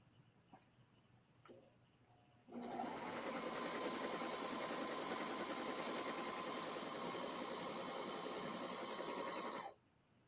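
A Brother Airflow serger stitches outdoor home decor fabric with a steady, fast mechanical hum that starts abruptly, runs loud and even for about seven seconds, then stops.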